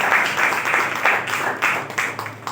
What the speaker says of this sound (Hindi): आइए हम लोग ताली मारेंगे।